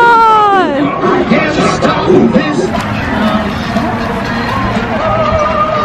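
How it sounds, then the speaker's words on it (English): A large graduation crowd on a track cheers and yells, a dense roar of many voices near and far, with a few individual shouts standing out and someone talking close by. "Y'all, look at the crowd"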